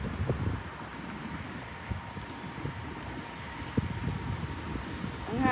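Wind gusting outdoors while a rented U-Haul truck and dolly are being loaded for a move: a steady, rumbling buffet against the microphone with a few louder gusts, continuous throughout.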